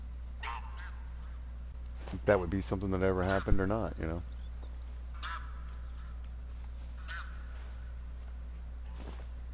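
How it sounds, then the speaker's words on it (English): Geese honking in the hunting video game theHunter: Call of the Wild, a short loud burst of several overlapping honks in the middle, with faint calls before and after and someone speaking over part of it. "Listen, geese, I'm gonna start flinging lead in the sky."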